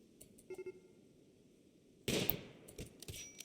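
Gunshots in the colony game RimWorld, a few faint early pops followed by a louder burst of rapid fire and scattered shots, all at low volume with no talking.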